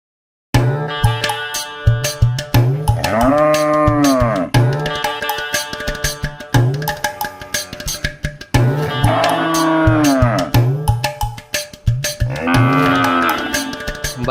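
Cattle at a cow market give several long, loud, drawn-out moos in succession, close by and dominating the scene, with no talk.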